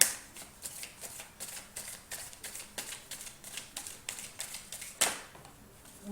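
Tarot cards being shuffled by hand, a steady run of close, papery riffling taps with one sharper slap near the end, no voices over it.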